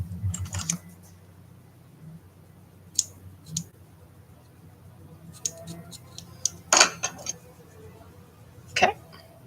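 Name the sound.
scissors trimming a cat art doll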